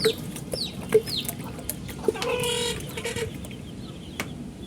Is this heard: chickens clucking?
yes